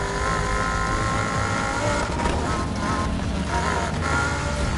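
Race car engine roaring steadily at high revs in the Need for Speed Heat racing game, a dense continuous drone with brief surges midway as nitrous kicks in.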